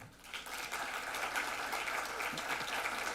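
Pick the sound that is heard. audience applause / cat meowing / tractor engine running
audience applause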